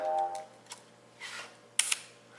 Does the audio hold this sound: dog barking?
no